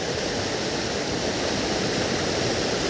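A strong river current rushes in a steady, loud, unbroken roar of flowing water, close by, with no other sounds.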